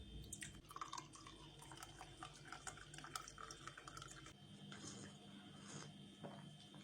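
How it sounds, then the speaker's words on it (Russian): Homemade Tatar tea pours into a cup with soft trickling and dripping, steady and fairly quiet, with a few light clinks and no talking. "Наливаем наш любимый татарский вкусный домашний чай."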